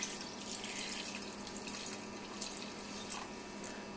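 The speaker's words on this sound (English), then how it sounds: "I'm going to add half cooked potatoes and 2-3 cups of water, just until the potatoes are drowned." Water poured into a pot of half-cooked potatoes for a chicken biryani gravy, a continuous close splashing stream like a running tap with occasional drips.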